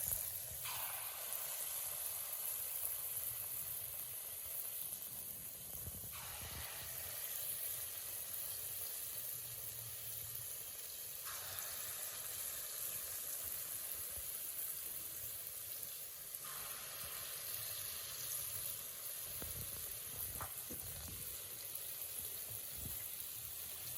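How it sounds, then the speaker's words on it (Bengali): Palm fritters (taler bora) frying in hot oil over a low flame, a steady soft sizzle and gentle bubbling that continues without a break, quiet and close, with no voices. "এইবার এইভাবে নিয়ে আপনারা এই বড়া এভাবে ছেড়ে দেবেন তেলের মধ্যে"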